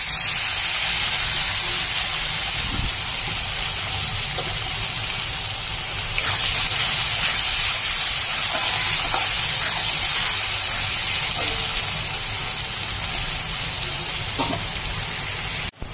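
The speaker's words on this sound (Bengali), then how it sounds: "এবার আমি এই তেলে ভেজে নেব তিতা করলা।" Bitter gourd frying in hot oil in a kadai, giving a steady, close hiss of sizzling that runs unbroken throughout with a few faint clinks and no talking.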